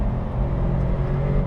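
Engine of a Subaru WRX STI with a boxer engine, a dense, steady low rumble and drone heard from the cabin while driving, loud and continuous with no voices.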